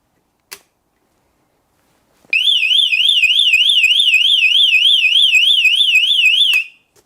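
A loud, piercing electronic alarm from a Somfy garage door opener warbles rapidly up and down for about four seconds after a brief click, then cuts off abruptly.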